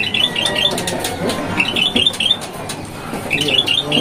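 A caged bird at a Jakarta bird market gives rapid, high, chirping squawk phrases in several bursts over a busy, murmuring market background.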